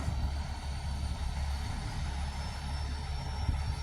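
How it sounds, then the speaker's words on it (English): A semi-truck's diesel engine starts and rumbles steadily, a deep continuous drone with a low throbbing hum, close by and loud. "Oh, the semi-truck just turned on."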